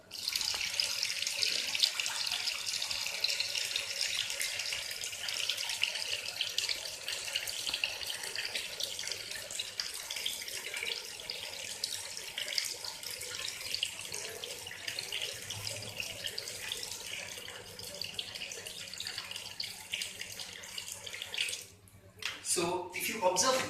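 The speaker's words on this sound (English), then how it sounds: "the water is getting emptied faster in this one as compared to this one" Water pours and drains out of two bowls in a simple pressure experiment, a continuous running, gurgling wash that holds steady for a long stretch before a brief dip and a few clattering knocks near the end.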